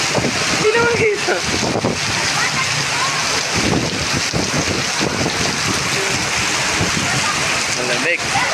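Strong storm wind rushes and gusts loudly and close, with splashing water and driving rain, and a voice briefly audible beneath the continuous roar.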